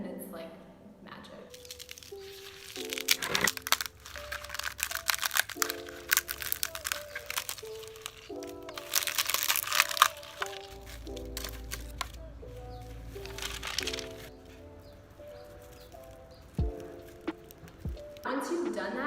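Dried, papery skin is peeled and cracked off a luffa gourd grown in Cambodia, giving close, irregular crunching and crinkling bursts, with a voice speaking over much of it.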